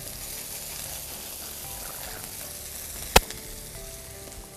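Wild herbs hit a hot frying pan with a steady, hissing sizzle that carries throughout, broken once by a sharp metallic clack near the end. No one speaks.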